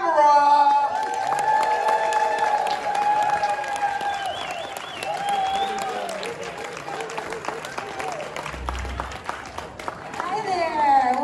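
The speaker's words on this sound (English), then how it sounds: "Together, let's cheer hard for Leah Tamara!" Studio audience at a comedy show in Arcata cheering and applauding a comedian, a dense continuous wash of clapping with whoops and a host's voice calling over it, swelling again near the end.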